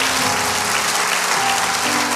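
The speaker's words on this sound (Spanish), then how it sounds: "Dale un aplauso al Rey bendito." Church congregation applauding at a pastors' retreat, a dense, steady wash of clapping filling the space throughout, with faint voices and a low organ-like hum beneath.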